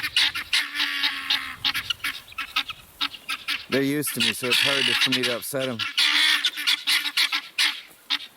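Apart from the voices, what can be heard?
guinea fowl alarm calls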